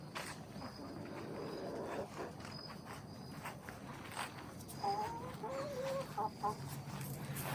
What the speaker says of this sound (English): Hello chickens, how are you today?